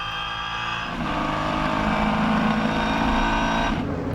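Renault Sport Trophy race car at Silverstone heard from on board at the race start, its engine droning loud and steady with strong harmonic whine, pitch rising as the car pulls away under acceleration.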